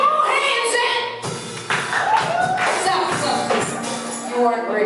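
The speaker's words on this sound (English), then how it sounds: "Clap your hands and" A church congregation clapping hands during praise, dense and steady, mixed with voices and singing over the beat.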